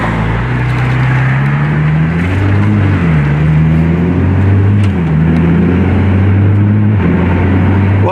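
A 100,000-mile Nissan GTR R35 pulls away hard from inside the cabin, engine pitch climbing then dropping in quick steps as it shifts gears repeatedly, loud and continuous with no talking.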